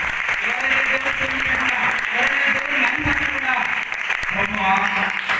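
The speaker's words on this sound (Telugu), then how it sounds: "సర్వజనులారా చప్పట్లు కొట్టి దేవుని మహిమపరచండి" A church congregation clapping hands together in praise, dense rhythmic applause running throughout with a voice speaking over it.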